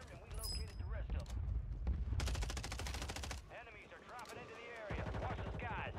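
Automatic rifle fire in Call of Duty Warzone on Rebirth Island, fast rattling bursts with one long sustained volley in the middle, mixed under game sounds and someone talking.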